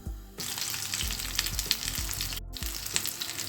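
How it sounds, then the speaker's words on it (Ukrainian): Steady loud sizzling of buckwheat patties frying in a hot covered pan, with a few soft clinks and thumps, briefly cutting out near the end. "Смажимо гречаники з одного боку."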